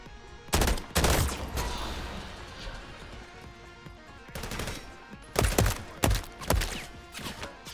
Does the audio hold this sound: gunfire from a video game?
yes